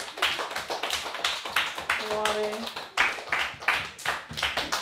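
A classroom audience claps in quick, uneven bursts of rhythmic hand claps, continuing steadily while people talk and a voice rises over the applause.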